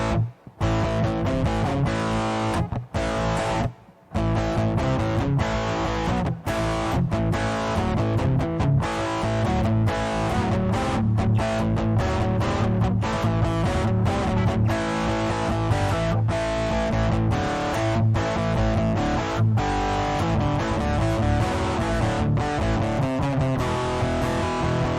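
Electric guitar played with heavy distortion, a dense sustained rock riff droning loud and continuous, broken by a couple of brief dropouts near the start.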